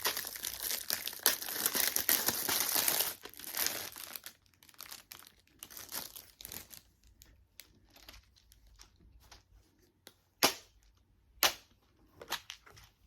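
Plastic packaging is opened at a crochet workspace. A few seconds of busy, close crinkling are followed by scattered sharp clicks and rustles, fairly quiet, with no one speaking.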